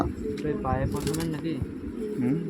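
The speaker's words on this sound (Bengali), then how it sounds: "কালোদানা পায়রার বাচ্চা" A Kaldama pigeon squab gives a few soft coos and faint squeaky calls close by, with a brief flutter, while someone talks over it.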